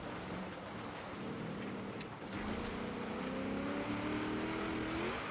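Ford De Luxe Coupe spinning its wheels on an uphill climb in Forza Horizon 3, a steady engine drone with a rising, straining whine as the tires slip, continuous and fairly close.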